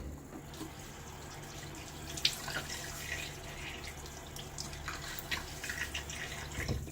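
A tap runs and water splashes faintly at a bathroom sink as a face is wetted before shaving, with soft drips and scattered splashes against steady low room noise.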